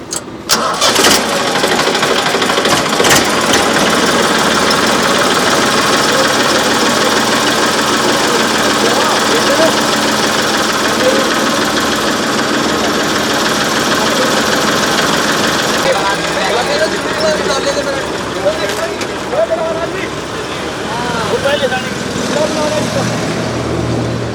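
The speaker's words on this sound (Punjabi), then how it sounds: "ਬੈਠੋ ਮਾਰੋ ਸੈਲਫ ਕਰੋ ਸਟਾਰਟ" A vehicle's engine is started with its self-starter and settles into a loud, steady, close idle that runs throughout, with voices talking over it on a roadside near the Singhu border.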